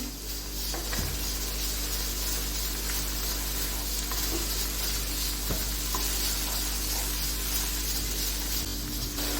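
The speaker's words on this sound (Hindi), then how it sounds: "अब इसमें डालूंगी टमाटर।" Tomatoes, about three large ones, dropped into a hot pan for shimla mirch chicken (capsicum chicken), giving a steady close sizzle with faint stirring scrapes throughout, no talk.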